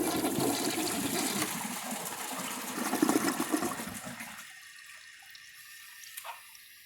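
A 2008 Mansfield Alto toilet flushes during a dirt test, a loud close rush of water that swirls for about four seconds, then cuts off into a quiet trickle and faint gurgle.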